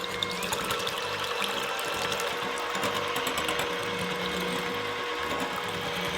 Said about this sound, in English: Now we'll use the hand mixer to make our meringue.